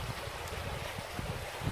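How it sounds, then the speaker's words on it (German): The Pulsbach, a mountain stream swollen after heavy rain, rushes in a steady, close, broadband wash with a low rumble and no talk over it. "hier das ist der Pulsbach. Und diesem Bach folgen wir jetzt"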